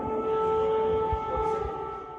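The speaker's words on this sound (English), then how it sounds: "Sirens could be heard in Russia's Kursk region as Ukraine reportedly attacked with dozens of drones." Air raid sirens sound in Russia's Kursk region during a drone attack, a sustained wailing tone held steadily at moderate distance over a low rumbling background, with no voices.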